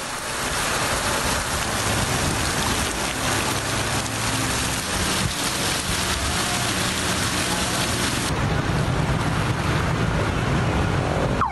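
Rain falls steadily in Karachi during news footage, a loud, dense wash of hiss that runs without a break through the whole stretch, close to the microphone and with no voices over it.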